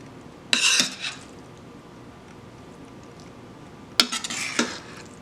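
Dishes and cutlery clink in two short bursts while pork chops and fried cabbage are plated, each flurry of scraping and knocking ringing out near and clear over a quiet kitchen background.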